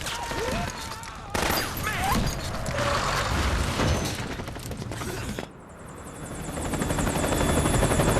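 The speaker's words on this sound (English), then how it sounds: "Oh no, now the helicopter's gonna get involved." A helicopter in the Metal Gear Solid 4 video game, its rotor chop and engine drone rising over continuous battle noise, mechanical clatter and scattered gunfire, growing louder toward the end.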